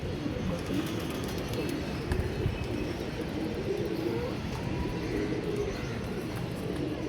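Domestic pigeons cooing softly and steadily, a low throaty murmur over a constant background hum, with faint chirps scattered through.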